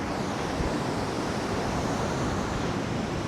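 Ocean surf rolling onto the beach at the end of Geary Street in San Francisco, a steady broadband roar with wind buffeting the microphone, no voices.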